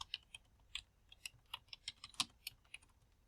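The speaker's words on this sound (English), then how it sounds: "I'll type that out." Code being typed on a computer keyboard: a quiet, irregular run of crisp key clicks, a dozen or more light taps with uneven spacing and no voice.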